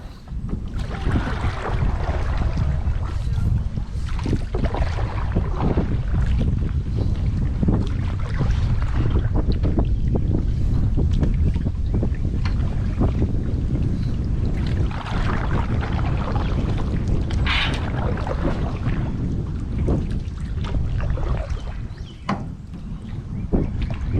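Strong wind roars and buffets the microphone continuously while canoeing on a lake in a park in Gainesville, Texas, with faint water and paddle sounds beneath.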